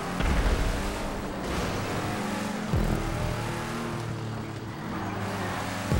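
Engine of a Tampa muscle car in GTA 5 Online drifting under throttle, a steady loud droning roar with rising revs and brief pitch sweeps, no voices over it.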